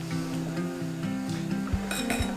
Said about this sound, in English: We're going to mix it again with the butter.